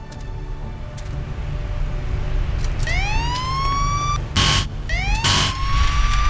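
Electronic siren sweeps rise repeatedly in the video game Black Mesa, interrupted by loud bursts of noise, over a constant low rumble.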